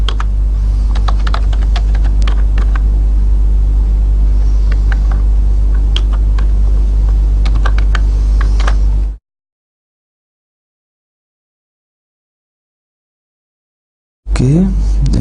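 Computer keyboard keys clatter in quick irregular bursts while C code is typed, close and steady over a low hum, then silence for several seconds before the clicking resumes.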